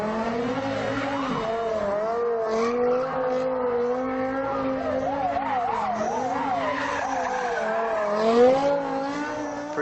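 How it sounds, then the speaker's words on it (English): Simulated car tires squealing and skidding continuously while the car spins donuts in SOLIDWORKS Visualize, a steady wavering screech with engine tone underneath, loud and unbroken for the whole stretch. "Pretty cool to make your car do donuts, right?"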